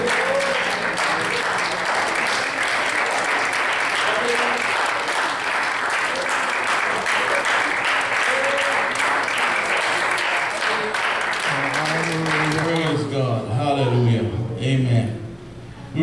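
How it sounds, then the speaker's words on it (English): Church congregation at a missions service clapping together in a sustained, thick burst of applause that runs for most of the stretch, with voices rising and talking over it as the clapping fades at the end. "Let's give the hand clap to the Lord Jesus Christ."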